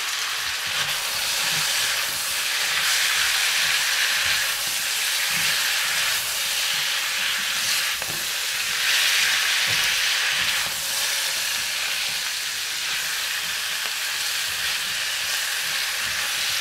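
Sliced pork and green pepper stir-frying in a pan, a steady close sizzle and hiss running throughout with light scraping and stirring clatter underneath, no talking.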